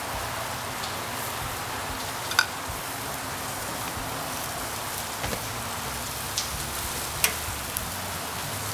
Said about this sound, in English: You can see it's raining outside, it's cloudy and it's gloomy